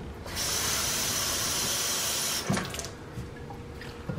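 Tap water runs steadily for about two seconds into a cup to measure water for pancake mix in a home kitchen, then stops, followed by a few soft clinks and quiet handling.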